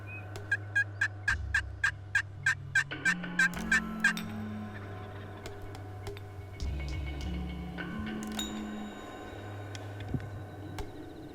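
Wild turkey tom in full strut gobbling, a loud near series of rapid rattling gobbles at the start followed by lower drumming and a few more gobble bursts, heard outdoors with no voices.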